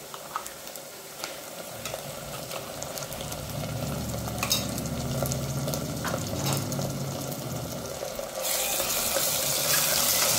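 Onions and ground masala fry in a pan for mutton curry with a steady sizzle, stirred now and then, the frying growing louder and brighter toward the end.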